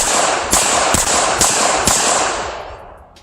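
Four sharp, evenly spaced shots ring out from a Walther PPK .380 ACP pistol with an extended magazine at an outdoor range, each crack followed by a loud echoing tail that fades away.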